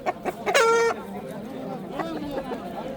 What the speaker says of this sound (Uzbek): Urushadigan dakan xo'rozlar.